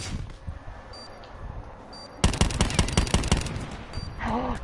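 Gunfire in a video game, starting with quieter scattered shots and then a loud rapid burst of repeated cracks lasting over a second, close and sharp, followed by fainter rattling.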